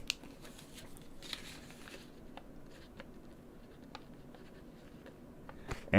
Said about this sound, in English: Gotta write that down.